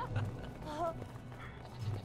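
Hoofsteps of a goat being ridden in the video game Brothers, a soft clip-clop under steady game music and background noise, with a brief tonal bleat-like call in the middle.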